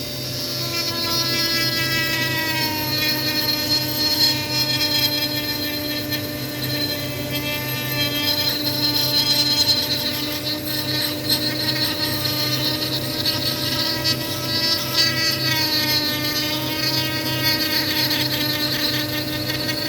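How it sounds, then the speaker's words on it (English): A Dremel rotary tool carves an apple wood spoon, a steady high-pitched whine with grinding that rises and falls as the bit bites the wood, loud and close throughout with no talking. "Okay, so I've rustled up the Dremel."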